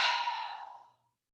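Long, airy exhale during a yoga pose, a soft deep breath fading out over about a second, close and alone in a quiet room.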